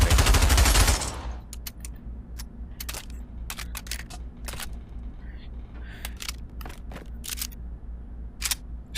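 Charging handle on a Draco pistol in the video game Pavlov racks once with a loud, sharp metallic burst at the start, followed by a run of faint clicks and taps over a low steady hum.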